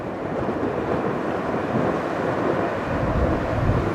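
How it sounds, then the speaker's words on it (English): Strong wind buffeting a camera microphone outdoors beside a railway line on a windy day, a loud, continuous low rumble and roar lasting throughout with no talk. "windy day today here."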